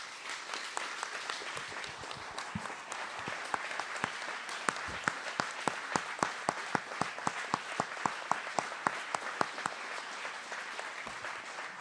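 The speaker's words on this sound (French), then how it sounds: "vous demander, si vous le voulez bien, qu'on l'applaudisse" An audience at an anti-hate forum in Marseille claps, with many sharp individual claps standing out over a constant bed of applause that holds steady throughout.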